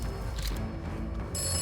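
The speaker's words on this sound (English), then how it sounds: "Sorry, I got a phone call." A telephone rings nearby during a game session, a brief electronic ringing tone over steady background noise, without talk.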